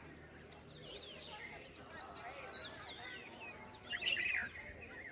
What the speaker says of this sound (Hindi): बाकी शाम के समय आप सुन सकते हैं पक्षी वगैरह किस प्रकार से चहचहा रहे हैं।